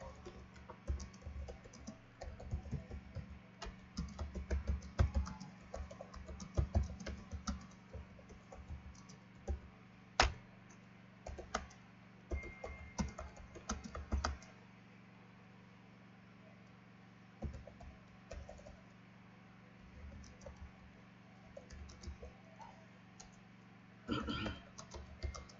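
Computer keyboard typing while writing Python code, close and fairly quiet, coming in irregular bursts of quick key clicks with pauses between them and a few stronger isolated taps, over a steady low room hum.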